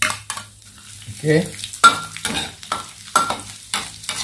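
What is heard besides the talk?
stir-frying ingredients for egg fried rice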